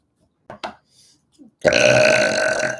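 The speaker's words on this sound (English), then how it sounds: "That was a big burp." A loud, long burp lasting over a second, rough and sustained, following a few faint short sounds in an otherwise quiet room during a live psychic reading stream.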